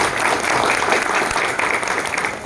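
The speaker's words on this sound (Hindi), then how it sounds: "उनके लिए एक बार जोरदार ताली बजाएं" Audience at an evening commemorative gathering in Khadki, Pune, claps in a dense, steady burst of applause that fills the whole moment, with no voices over it.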